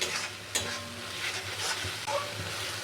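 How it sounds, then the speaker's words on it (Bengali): Stuffing of spiny gourd with mustard being stirred in a hot pan, a soft sizzle broken by a few sharp scrapes and knocks of the spoon against the pan. "সর্ষেটা দিয়ে জাস্ট 1 থেকে 2 মিনিট নাড়াচাড়া করে নামিয়ে নেব।"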